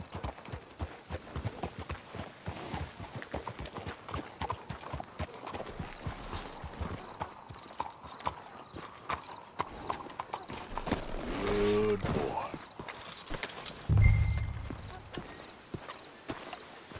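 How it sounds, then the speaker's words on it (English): Horses walk at a steady pace in Red Dead Redemption 2, hooves clip-clopping in a regular rhythm, with a snort or whinny near the end and faint voices under the hoofbeats. "Let's hitch the horses up ahead."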